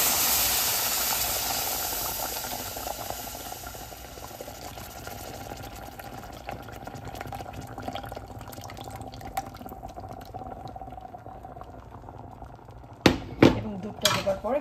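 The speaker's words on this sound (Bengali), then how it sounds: "এখন আমি এ পর্যায়ে এখানে দিয়ে দিচ্ছি 1/2 লিটার দুধ, 2 কাপ দুধ।" Half a litre of milk hits hot, lightly browned roasted semolina in a pan with ghee, giving a loud steamy hiss that gradually fades into a softer simmer, then a few sharp stirring clanks near the end.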